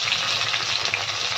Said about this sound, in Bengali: হালকা লাল করে কেটে রাখা পেঁয়াজগুলো আমি ভেজে নেব।